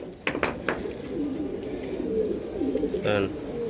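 A pair of high-flyer pigeons at a breeding farm coo softly in low, rolling phrases close by, with a voice briefly speaking alongside.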